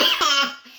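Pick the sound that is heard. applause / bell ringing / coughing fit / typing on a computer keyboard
coughing fit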